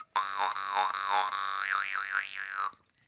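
Jaw harp played with the lips drawn away, giving a steady twanging drone with a wobbling, wah-like overtone sweep toward the end, alone and close.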